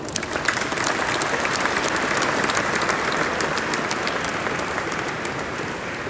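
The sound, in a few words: applause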